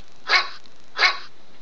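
A cartoon dog gives two clear, evenly spaced barks, close and fairly loud, in the silence of a first-grade math lesson.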